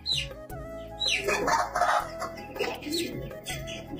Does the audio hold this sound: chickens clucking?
yes